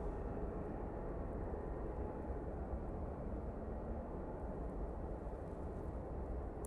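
A Gulf Air jet departs Manchester Airport, its engines a steady, distant low roar that holds evenly without a clear rise or fade.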